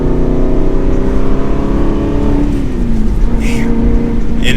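An Aston Martin Vantage GT with a manual gearbox pulls steadily, its engine tone rising then dropping slightly as it shifts, a loud continuous drone close by with no talk.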